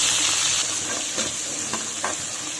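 Kari vadagam and chopped onion hiss and crackle in hot oil for a river catfish curry, a steady bright sizzle close by with a few scraping stirs of a spoon toward the end.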